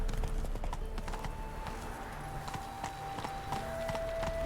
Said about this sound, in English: Run, Roach. That's it, Roach